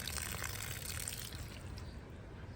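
Water runs from a hose or tap to deep-water a tree, a faint, steady hissing trickle at low volume with no break, and no talking.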